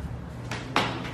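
A door opening in an empty apartment, a few soft knocks and a sharper click-thud against a low background hum, close and quiet.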